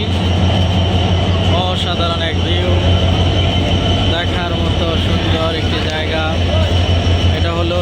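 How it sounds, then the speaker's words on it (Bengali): The Shilahati Express rolls through Ibrahimabad (Jamuna Bridge East) railway junction with a steady loud rumble and rhythmic wheel clatter, heard close by, while someone talks over it throughout. "শিলাহাটি এক্সপ্রেস ট্রেনটি এখন এই যমুনা সেতু পূর্ব বা ইব্রাহিমাবাদ স্টেশনকে অতিক্রম করে যাচ্ছে"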